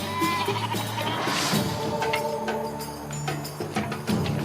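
A goat in the Judean desert bleats clearly, with repeated wavering calls close by over a steady background, no talk heard.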